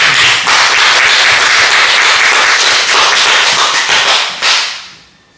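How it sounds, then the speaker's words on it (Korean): An audience at a church service applauds, a loud dense wash of clapping held steady for several seconds before quickly fading away, with no voices over it. "박수 한번 보내주시고."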